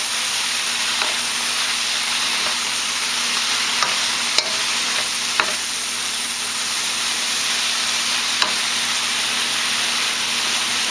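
Greens sautéing in a hot pot over high heat, a steady hissing sizzle with a few faint clicks and scrapes of stirring, close and even, with no voices.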